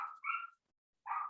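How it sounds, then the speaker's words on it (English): A dog barks somewhere in another room of a house: a quick pair of muffled barks, a short pause, then one more, all fairly faint and distant. "Sorry if you can hear a dog barking in the background."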